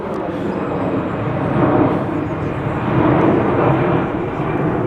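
A fixed-wing aircraft passes overhead near Manchester Airport during a classic car show at Tatton Park, a loud, steady engine roar that swells and holds for several seconds.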